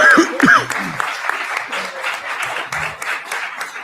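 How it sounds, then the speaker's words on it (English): Applause from those present at a congressional hearing on a digital assets bill, moderate scattered clapping that follows a brief voice at the start and trails off. "we need to give them a unanimous round of applause"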